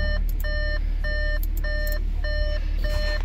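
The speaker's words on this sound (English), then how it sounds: "And it's beeping at me because the door's open." A 2016 Audi S5's door-open warning chime repeats in even, bright beeps about every 0.6 seconds over a steady idling engine rumble.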